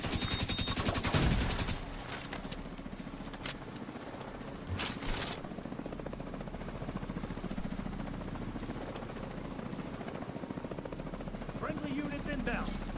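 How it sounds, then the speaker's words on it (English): Helicopter rotor thrum in the video game The Division 2, an enemy chopper approaching through a busy battle with bursts of gunfire and machine-gun fire, a steady loud drone throughout under game voice lines. "Enemy helicopter approaching."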